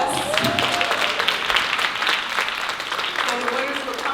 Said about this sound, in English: So definitely clap, give a thunderous clap and support to all of the nominees tonight.